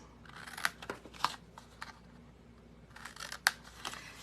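Scissors cutting flaps on scored cardboard for a bag-of-bones treat holder: a few crisp, close snips spaced apart, with soft handling rustle between them and no talking.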